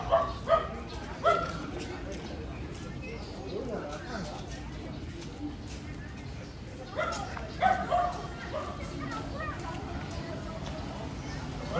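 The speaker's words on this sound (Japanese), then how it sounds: "めっちゃでかい犬です。" A large dog barks on a suburban street outside Shanghai. Several close barks come in two clusters, one near the start and another later, with people talking and street noise throughout.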